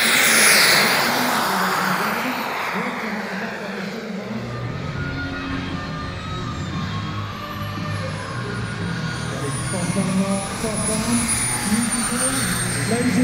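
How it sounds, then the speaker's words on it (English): Pilatus PC-21 turboprop trainer landing at an air show, a loud sustained engine roar with a rising and falling whine, joined by a deeper drone partway through, steady throughout amid crowd ambience. "the PC-21, what a landing with Mark Leasley."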